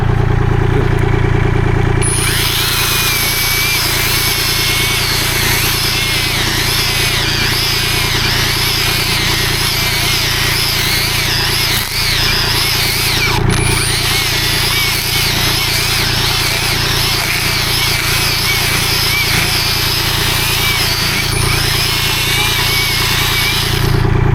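A Frontier OS23 sawmill's small engine runs steadily and loudly the whole time, a constant buzzing drone with a slight shift in pitch partway through.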